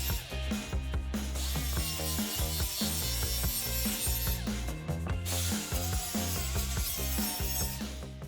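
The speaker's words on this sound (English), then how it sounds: "I'm just going to use a die grinder with a 36 grit sanding disc and just kind of polish around the edges" A die grinder fitted with a 36-grit sanding disc polishes the edges of a custom exhaust pipe on a 4x4 Chevy van, giving a loud, steady abrasive whirr with rhythmic grinding pulses and no pauses.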